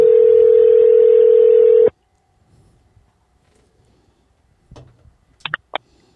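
A telephone dial tone hums steadily and loudly for about two seconds before cutting off, followed by near silence and a few faint clicks and short beeps as a call is placed.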